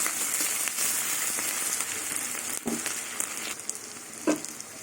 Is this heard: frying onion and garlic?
yes